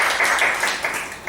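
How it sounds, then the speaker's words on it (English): Applause from a Toastmasters club audience, a steady broadband patter of many hands clapping together at moderate loudness, without a break across the short stretch. "So please give a big round of applause to the person who thinks"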